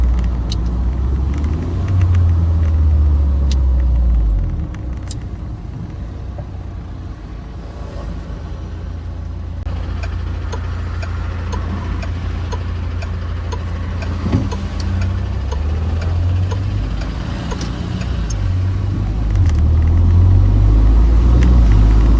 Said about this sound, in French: vous mettez 1 cm sur la pédale d'accélérateur et la voiture passe ses vitesses tranquillement.